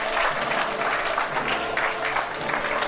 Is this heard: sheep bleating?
no